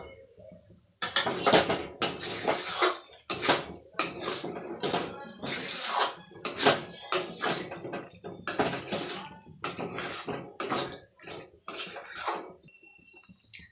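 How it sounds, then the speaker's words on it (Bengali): A bowl being washed and water poured into it in a home kitchen while cooking a Bengali potato and spring onion posto, with bursts of clattering dishware and splashing in irregular clumps separated by short pauses. "বাটিটা ধুয়ে আমি একটু জল দেব।"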